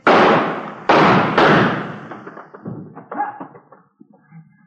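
In a police radio drama, a gun is tossed onto the ground: a few hard thuds land in quick succession, then smaller clatters and knocks that fade out, with no voices over them.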